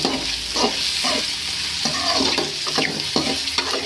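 Green chilies, capsicum and carrots stirred in a frying pan for upma, a spoon scraping in repeated strokes over a steady bright sizzle, close and alone.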